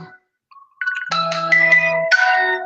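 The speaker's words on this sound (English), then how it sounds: "My phone keeps ringing." Mobile phone ringtone ringing, a loud, bright electronic melody of stepped tones starting after a brief pause, sounding near and clear with no talking.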